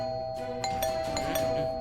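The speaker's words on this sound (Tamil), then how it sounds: "ஏன்டா காலிங் பெல் அடிக்குது?" A doorbell chimes in a short ding-dong over a steady background hum.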